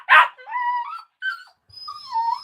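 A 10-and-a-half-week-old rescue puppy whimpers close by: a short yip followed by several thin, wavering whines in quick succession, clear and alone with silence between.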